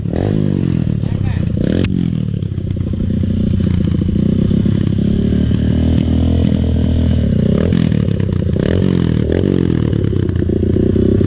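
A dirt bike engine on a Bali trail trip is held at high RPM. It drones loud and close, rising and falling in pitch as the throttle opens, and a voice is heard at times.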